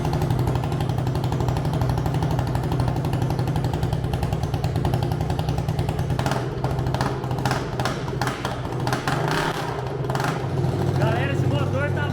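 A Mini Lancer mini motorcycle fitted with a 250cc engine and no silencer runs very loud and close, a rapid hammering idle with a few sharp revs partway through.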